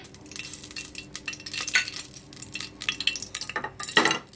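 Ghee and oil heating in a pan for leafy-greens pulao, with faint sizzling and intermittent clinks and scrapes of a spoon stirring against the pan, close and moderately loud, no talk.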